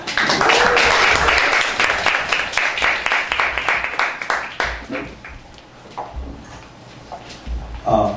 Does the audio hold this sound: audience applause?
yes